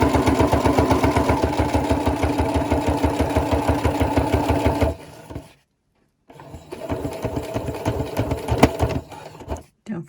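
A sewing machine runs a fast, even stitch while hemming the bottom edge of fabric for a rabbit hutch cover, stops briefly, then starts again in shorter bursts.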